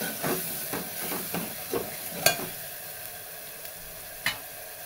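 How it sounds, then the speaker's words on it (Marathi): Green chilies sauté in oil in a pan with a soft sizzle, punctuated by several stirring knocks and a couple of sharp clicks against the pan, close and fairly quiet. "असं मस्त परतून घ्यायचं चांगलं ह्याला तेलामध्ये"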